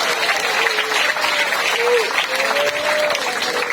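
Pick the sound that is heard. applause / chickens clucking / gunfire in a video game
applause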